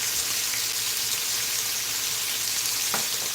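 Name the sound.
bacon sizzling while frying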